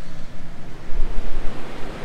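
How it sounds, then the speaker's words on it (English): Ocean waves roll onto the coast at Kalbarri in a steady, pulsing wash of surf, with a low rumble, some wind buffeting the microphone, and no voices. "it's always nice to hear the ocean in the background"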